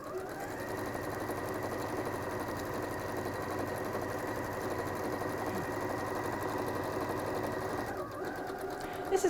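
A domestic sewing machine stitches steadily for about nine seconds, a continuous mechanical whir with a rapid needle rhythm, close and even, with a brief slowdown near the end.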